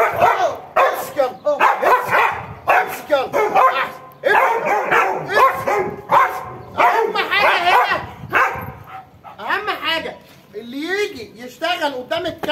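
During guard dog training, a dog barks repeatedly and loudly up close in rapid bursts, with yips and whimpers mixed in, while someone talks over the barking.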